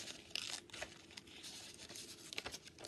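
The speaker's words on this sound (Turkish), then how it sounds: "önce bu paketi açalım" Packaging being ripped open for a surprise-box unboxing, close up, with several short tearing and crinkling bursts over a steady background.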